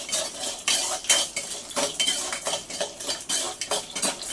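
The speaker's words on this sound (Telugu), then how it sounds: "ఇప్పుడు పల్లీలు కూడా కొంచెం దూరగా వేయించుకోవాలి." Peanuts roasting in a pan for a dish of leftover rice, stirred steadily with a metal spoon that scrapes and clinks against the pan in a busy, continuous rhythm, close and fairly loud, with no voices.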